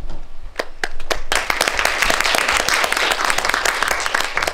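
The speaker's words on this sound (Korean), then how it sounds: "박수로 맞이해주세요." A few scattered claps quickly swell into steady, sustained applause from a film screening audience welcoming actors, loud and continuous until the end.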